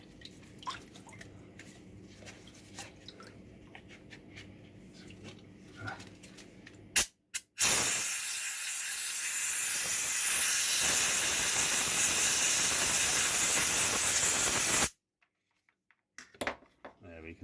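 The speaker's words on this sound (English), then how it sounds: "I'll just give this a rinse now." Water spray rinsing a derusted MGF Hydragas displacer, a loud steady hissing wash lasting several seconds before cutting off abruptly, preceded by quieter drips and handling.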